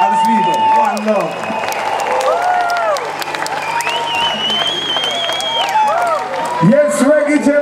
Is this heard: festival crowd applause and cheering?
yes